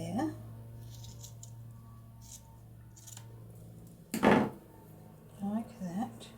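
Scissors snip through lace at a papercraft table, a few brief crisp cuts, one louder near the middle, with someone speaking around them.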